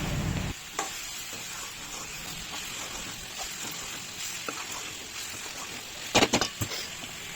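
Chicken frying with coriander and mint in a pan, stirred to a steady soft sizzle with a few light scraping knocks and a brief clatter near the end.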